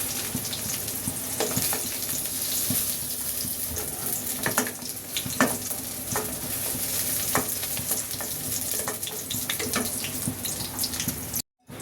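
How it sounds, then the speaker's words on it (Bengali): Eggplant frying in a pan gives a steady sizzle with scattered clicks and scrapes, close and fairly loud throughout, with no voices. "বেগুনটা ভাজা হয়ে গেছে, হালকা করেই ভেজে নিব আমি"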